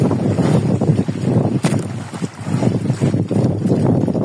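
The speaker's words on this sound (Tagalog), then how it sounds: "Kaso nga lang medyo mahangin." Gusty wind buffeting the microphone in uneven bursts, loud and close, with a low rumbling roar throughout.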